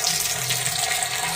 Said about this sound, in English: We will let it fill up to here,